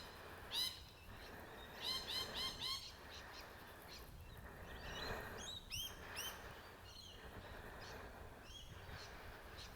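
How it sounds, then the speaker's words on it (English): Faint bird calls and chirps, some in short rapid bursts, come from around a quiet outdoor nature walk where there has been rain, over a soft steady background hiss. "I want you to sit really quietly and listen to the birds."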